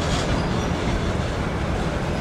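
A regional train on the Brenner railway's southern ramp in Italy rolls past nearby, a loud, steady rumble of wheels on track with a faint rhythmic clatter.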